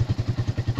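Electric starter motor of a Suzuki FU125 motorcycle cranking the engine, a rapid, evenly pulsing mechanical chug heard up close for under a second.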